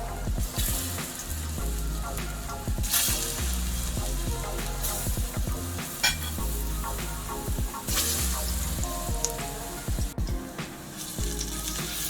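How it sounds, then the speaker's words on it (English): Oil sizzles and crackles steadily in a pan as plantain wedges fry, with a few clinks of utensils stirring close by. "And then I'm gonna start frying my wedges."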